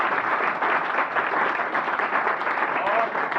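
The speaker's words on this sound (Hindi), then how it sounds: "तो ऐसे शिक्षक के लिए जोरदार ताली।" Loud, steady applause from an audience at a foundation day event, honouring a teacher, a dense wash of clapping that holds unbroken for several seconds.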